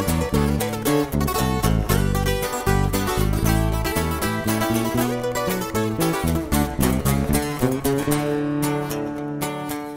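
Live norteño song, a dense, loud band mix with accordion-like melody, bass and percussion playing continuously throughout.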